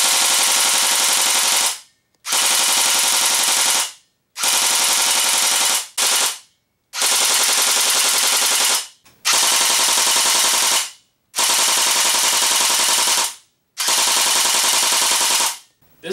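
SRC MP40 airsoft gun with electric blowback fires seven loud, sustained full-auto bursts, each roughly one to two seconds long, separated by short silent pauses, close to the microphone with no talking.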